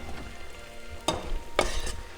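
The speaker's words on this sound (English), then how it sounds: "Just use a spoon or a spatula just to scrape those bits up" Caramelising cauliflower in a hot pan is scraped with a spoon or spatula, giving two distinct scrapes over a low steady sizzle, close and alone with no talk.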